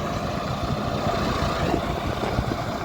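A tractor-driven thresher (haller) working a chickpea harvest on a farm threshing floor runs with a steady, continuous engine drone and mechanical rumble close by, without pause.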